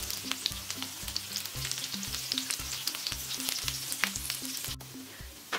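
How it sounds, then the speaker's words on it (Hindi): Green pea cutlets fry in a pan with a steady, close sizzle and scattered crackling pops, fairly quiet and uninterrupted by any voice. "एक बार में सारे कटलेट को ऐड कर दिया और सारे कटलेट को फ्लिप कर लेती हूँ।"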